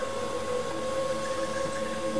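A vacuum cleaner runs steadily while a glass-fronted bird cage is being cleaned, giving a constant loud whine with a strong tonal hum and no pauses.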